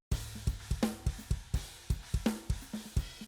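Main kit bus of a drum mix plays a steady pattern of punchy kick and snare hits with cymbal wash, evenly spaced and fairly quiet, with no voices.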